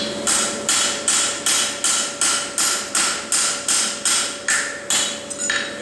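Hammer striking a pritchel punch through a steel horseshoe at a farrier's anvil, about a dozen sharp metallic blows at a steady, even rhythm, each ringing briefly, loud and close.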